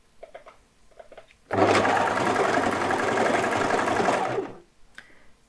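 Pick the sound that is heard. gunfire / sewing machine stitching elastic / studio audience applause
sewing machine stitching elastic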